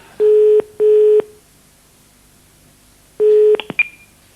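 Telephone keypad tones sound on a landline: two steady dialing tones close together, a pause, then a third tone followed by a few short clicks and a brief higher beep.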